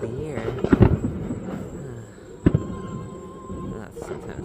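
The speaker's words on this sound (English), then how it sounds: "And look at all these fireworks." Independence Day fireworks go off outdoors, several distant booms and crackling bursts spread across the stretch, with a person speaking over them.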